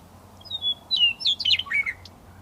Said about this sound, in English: And of course there were other birds too